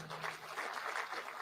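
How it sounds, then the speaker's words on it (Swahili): A crowd claps for labour leaders at an outdoor Labour Day celebration at Uhuru Gardens, a dense, steady patter of applause that sounds somewhat distant and continues evenly throughout. "Tafadhali, waheshimiwa wasimameni. Tuwapigie makofi hawa wadosi."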